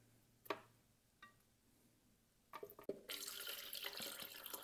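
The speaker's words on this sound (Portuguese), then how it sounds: "Complete com água." Tap water runs into a blender holding rib broth for coxinha filling, starting with a couple of faint knocks and then a steady, close rushing flow that fills the last stretch.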